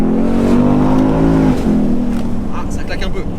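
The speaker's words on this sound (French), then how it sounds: "Quand l'échappement devient chaud, ça claque un petit peu." Ford Mustang V8 convertible, exhaust hot, rumbling loudly up close with a brief break midway and faint crackles and pops toward the end, heard alone without talk, in snow.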